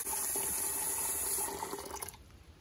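Hot tap water pours steadily into a container, ready for breaking in a 44 Pro denim baseball glove. The stream runs loud and close for about two seconds, then cuts off.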